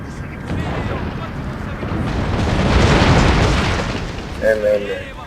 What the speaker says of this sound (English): my hand mortars start to fire